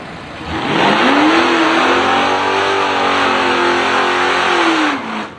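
A no-prep drag racing car with wheelie bars accelerates hard down the strip, a loud sustained engine roar climbing in pitch for several seconds before easing off, close and alone with no talk.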